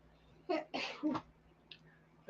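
A person sneezes in quick bursts, close but fairly quiet: a short sneeze, a stronger one, a third, then a faint catch and another sharp burst at the end.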